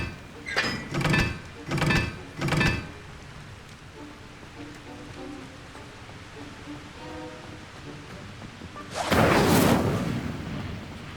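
Incendio, the fire spell in Hogwarts Legacy, goes off as a loud whooshing flare near the end, after four short sharp thumps early on and a quiet stretch of low rumble in between.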